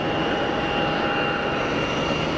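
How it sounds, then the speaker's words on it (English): An easyJet airliner taxis and turns to line up at the end of runway 22 at Geneva Airport, giving a steady, moderately loud engine hum with faint whining tones, continuous and without voices. "So easyJet out to Vigari is just about to line up at the end of 22."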